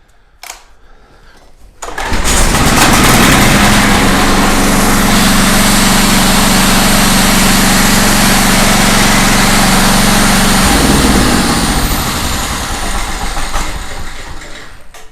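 A repaired generator engine is cranked and catches after a couple of seconds, then runs at a steady, loud, buzzing drone with a constant hum before the tone shifts and eases slightly near the end.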